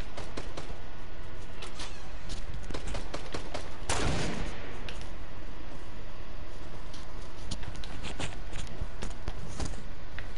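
Rapid gunfire in a video game, with bursts of sharp shots fired throughout alongside footstep sounds and one heavier blast partway through, steady and close with no talking.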